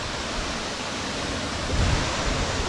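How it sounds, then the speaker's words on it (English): A muddy brown waterfall in Nan, Thailand, produces a steady, broad rushing roar that fills the short clip evenly, with no voices. "This is possibly the brownest waterfall I've ever seen."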